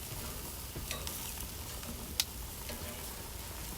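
Shrimp frying in a pan and being turned over, a soft steady sizzle with a few faint scrapes and one brief sharp click, quiet and close, no voices.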